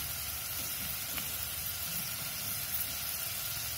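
Cumin seeds frying in a hot pan, giving a steady, soft sizzle and hiss with no voices over it.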